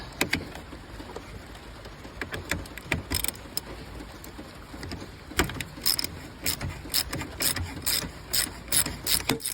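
A ratchet wrench working the battery terminal on a Dodge Journey, clicking in quick bursts of rapid ratcheting strokes with short pauses between, close and crisp with no talking.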